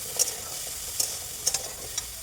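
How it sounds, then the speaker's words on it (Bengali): Pumpkin pieces fry in a pan over onion and garlic, a steady close sizzle broken by four sharp clicks of a spatula stirring against the metal, with no voices. "কুমড়োটা দিয়ে দিলাম। এবার এটা ভালো করে ভেজে"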